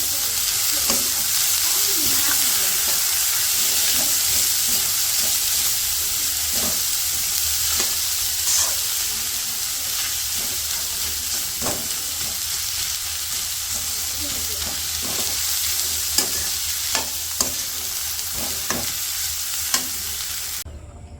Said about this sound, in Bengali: এই আলুগুলো একটু দিয়ে দিই, দিয়ে এগুলোর সাথে ভালো করে ভাজা ভাজা করে নিই।